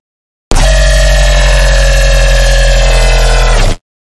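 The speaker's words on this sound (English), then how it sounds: "This is one of the heaviest screeches I probably ever made" A heavy synth screech with a thick sub bass sustains loudly for about three seconds, a dense buzzing tone layered over a booming low end, starting abruptly and cutting off cleanly.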